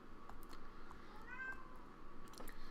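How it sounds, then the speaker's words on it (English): One brief cat meow midway through, moderately faint, set against soft background noise and a few light clicks. "If you hear him meowing, that is my cat."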